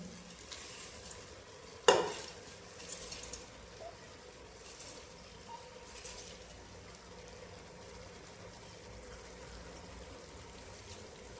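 Dal and rice with chopped mint being stirred in a pot for masala khichadi: one sharp scrape near the start, then soft continuous stirring and gentle sizzling, close and low.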